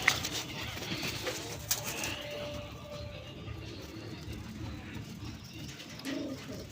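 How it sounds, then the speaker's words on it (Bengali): Moyna jhak pigeons coo softly at a pigeon sale, low murmuring calls mixed with faint background bustle and a few sharper knocks. "হচ্ছে ময়না ঝাক কবুতর।"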